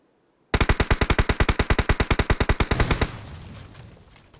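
Rapid automatic gunfire in a competitive shooter video game: a single long burst of about two dozen sharp, evenly spaced shots, loud and close, fading into a short echoing tail.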